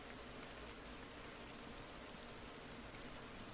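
Steady rain falling in a survival crafting video game, a soft, even hiss of drops with no breaks, low and constant throughout.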